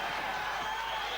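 A crowd roars steadily through a kickboxing fight between Amir Shafipour and Chris Allen. The dense, continuous cheering fills the whole moment with no break.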